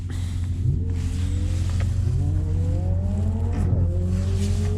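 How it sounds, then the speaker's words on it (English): A Ferrari 458 passes at a VMAX200 top-speed event, its engine note rising in several climbing sweeps over a loud, steady drone of nearby cars, with no talking. "Ferrari 458."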